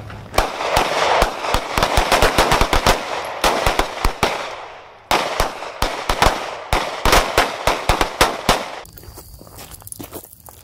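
Rapid pistol and rifle gunfire at an outdoor shooting range in Rock Castle, Kentucky: loud, close shots in quick bursts with brief pauses, then sparser single shots fading toward the end.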